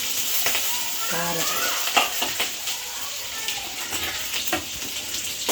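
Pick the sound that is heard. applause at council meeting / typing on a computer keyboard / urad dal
urad dal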